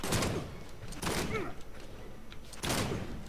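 Deathstroke's gunshots in the fighting game Injustice, three loud, close, sharp bursts spaced about a second apart with busy game sounds in between.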